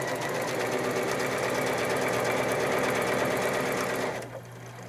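A sewing machine running steadily for free motion quilting, its fast, even stitching rattle continuous and close for about four seconds before stopping abruptly.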